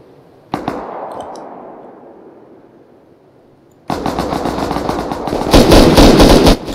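In the video game Rust, a sharp burst of shots, then a long quiet tail, then sustained rapid AR rifle gunfire growing louder and denser toward the end.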